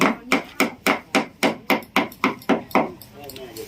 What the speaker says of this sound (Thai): มันต้องมีการตอกตะปูเย็บด้วยนะคะ เนี่ย ตอกตะปูเย็บ มันจะได้ไม่หลุดลงมา